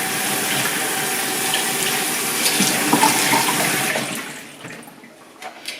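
Indoor tap water runs steadily and strongly while houseplants are washed, then cuts off and fades to quiet after about four seconds.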